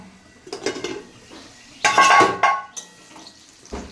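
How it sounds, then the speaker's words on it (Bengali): Lid lifted off a pot of frying potatoes: a couple of light metallic clinks, then a louder clattering scrape of metal on metal, followed by softer knocks and a faint sizzle. "এবার ঢাকা খুলে দেখে নেবো আলুটা ভাজা হয়ে গেছে"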